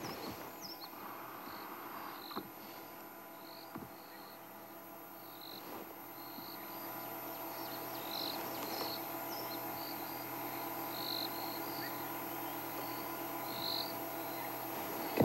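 Crickets chirp steadily at dawn in the South African bush of the Sabi Sand reserve, a faint continuous insect trill with scattered distant bird calls and soft clicks, no talk.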